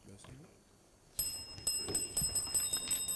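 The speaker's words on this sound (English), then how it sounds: "And that's the bell." A bell rings out in a quick series of bright metallic strikes after a quiet stretch, during a televised school quiz.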